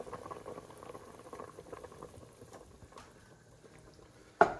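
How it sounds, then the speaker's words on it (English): Hot and sour soup bubbling in a pot on the stove, a soft steady patter of boiling under quiet background noise, ending with a brief sharp clatter. "I want to see it boil some more."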